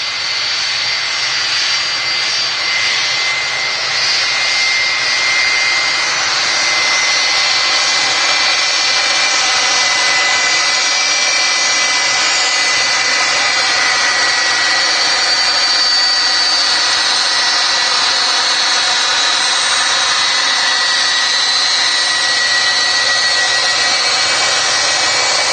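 Loud, sustained whine and roar of a Boeing 757's jet engines at Manchester Airport, a continuous high-pitched turbine tone with a broad rushing roar underneath, heard close and steady without talk.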